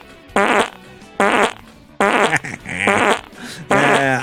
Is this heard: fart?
yes